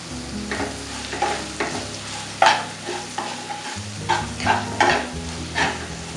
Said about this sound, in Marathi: थोडं परतून झाल्यावरती यामध्ये आपण ही बारीक जी चिरलेली टोमॅटो आहेत ती टाकून घेऊया